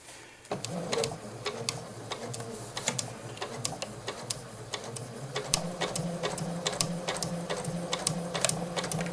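A Janome 8077 sewing machine stitches through a blanket, its rapid mechanical whir broken by frequent sharp clicks and ticks, running steadily at close range with no talking.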